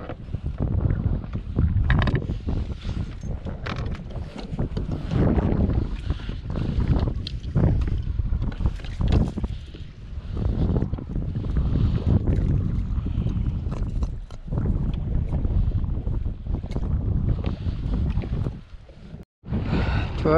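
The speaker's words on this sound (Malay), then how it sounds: "Angin bukan main kuat lagi." Strong gusty wind buffets the microphone while kayak fishing in stormy weather, a loud, uneven roar with water and hull knocks throughout and no voices.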